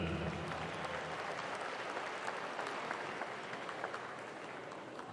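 Bishop Miege Stags fans applaud and cheer steadily at a high school basketball game, a dense, continuous wash of clapping from a crowd of visiting supporters.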